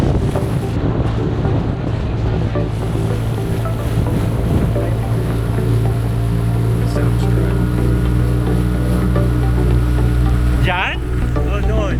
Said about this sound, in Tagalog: we travel up north using an inflatable boat with an outboard motor.